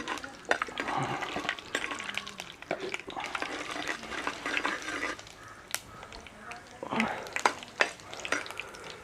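Fenugreek seeds sizzle in hot oil in a pan as the base for a Kerala-style fish curry. There is a close, crackling fry with stirring scrapes and pan clatter.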